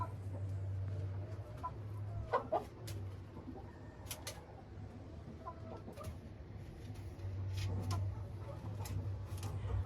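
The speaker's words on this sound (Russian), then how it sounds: "А курочки вот так вот заходят в курятник." Hens cluck softly and intermittently as they walk into a dry coop, while strong wind rumbles steadily outside beneath their calls.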